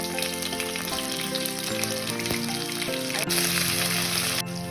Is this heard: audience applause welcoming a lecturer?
no